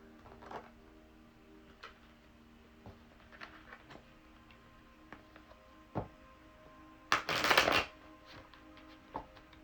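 Tarot cards are shuffled in one brief, crisp riffle near the end, preceded by faint scattered taps and card handling over soft background music.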